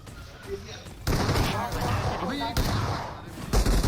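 Gunfire from a BGMI mobile battle royale fight, loud bursts and impacts over several seconds, mixed with a voice talking throughout.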